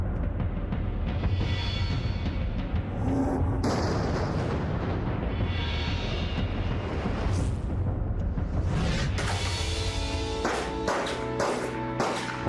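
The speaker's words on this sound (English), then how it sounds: "Why are you still shooting, man?" Booming gunfire and explosions crash continuously through Ace Combat 5: The Unsung War, loud and dense with sharp bursts layered over a rumbling battle backdrop.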